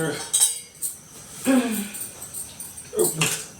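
Metal bowls and kitchen utensils being washed: three separate bursts of close clinking and clattering, with quieter gaps between them.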